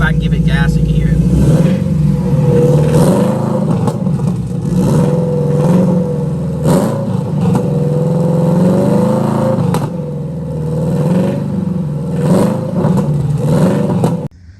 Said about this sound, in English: I'll give it a little bit of gas so you can hear like the bottom end noise